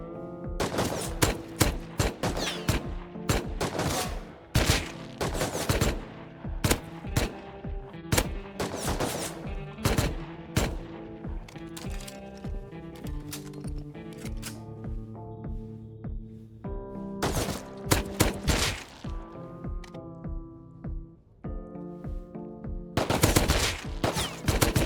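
Repeated bursts of video game gunfire, loud rapid volleys broken by short pauses and continuing over a low humming background, with no speech.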